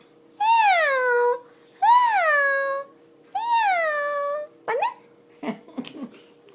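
A person imitates a cat's meow three times in long, clear, drawn-out calls, followed by a few short vocal sounds.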